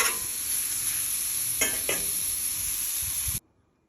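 Frozen broccoli frying in butter on a Blackstone griddle outdoors, a loud steady sizzle with a couple of brief scraping stirs, ending abruptly in near silence, no voices.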